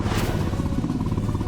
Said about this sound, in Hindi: सामने से बाइक आ रही है।